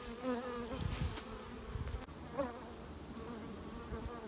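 Honeybees buzz around a flow hive during a honey harvest, a close, wavering drone with a louder pass near the start and another around the middle, otherwise a soft continuous hum.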